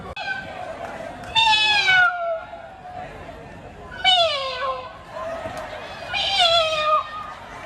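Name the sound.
contestants imitating cat meows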